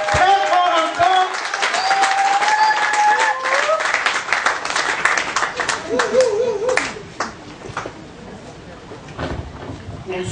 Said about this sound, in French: Applaudissez encore, très fort encore.